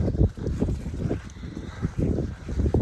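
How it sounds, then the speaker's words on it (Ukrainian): Wind buffets the microphone with low, rumbling gusts that rise and fall continuously, loud and close, with no other clear sounds. "Вибачаюся, друзі, за вітер, дують вітри зараз у нас."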